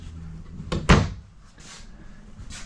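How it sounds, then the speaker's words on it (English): Soft-close drawers in an RV shut with a brief sliding rush and a muffled double thump near the start, followed by lighter rustling and faint handling noises close by in a quiet interior. "these drawers are reinforced and are able to hold up to 100 pounds in these guys, and they are soft close drawers"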